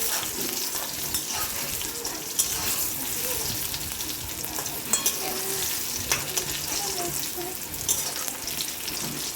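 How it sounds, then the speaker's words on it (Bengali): Steady hissing sizzle of eggplant frying in hot oil, with occasional crackles and pops throughout; no talking. "এবার আমি বেগুনটা ভাজা করে নিচ্ছি ভালো করে লাল লাল করে"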